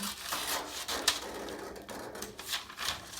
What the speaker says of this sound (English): I'm actually going to come in here and cut just a little trim off the sides